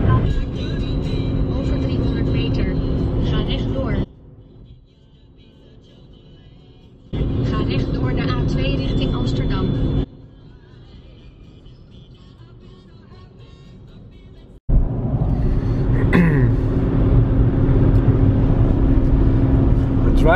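A car cruises along the road, its steady engine and tyre drone continuous throughout, swelling and dropping in level in long stretches as if the cabin noise shifts, with a faint voice briefly heard near the end.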